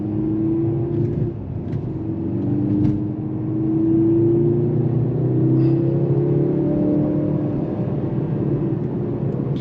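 A 2023 Mercedes-AMG C 43 sedan driven in Sport Plus mode, its engine droning and rising in pitch as it revs, heard steadily from inside the cabin with no talk.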